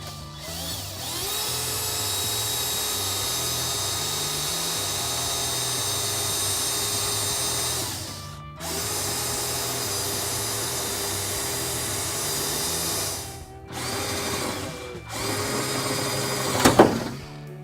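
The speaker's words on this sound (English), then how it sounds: "Make sure to not drill too far. Obviously, we don't want to go through the fender flare." A power drill boring a hole through the fender flare of a 2016-2022 Toyota Tacoma, a close, steady motor whine running for several seconds, stopping briefly, then resuming in shorter bursts.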